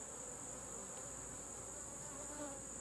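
Honeybees buzz in a steady, faint drone during requeening of a Layens hive, a continuous close swarm hum with no other sounds over it.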